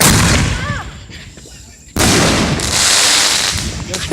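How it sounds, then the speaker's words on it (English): Fourth of July fireworks bursting nearby, loud sharp booms with a sudden blast midway followed by sustained crackling and rumble, with a voice calling out briefly. "This firework gonna go good."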